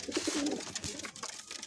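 A patti wale pigeon cooing softly a few times at close range, faint and brief against a quiet background.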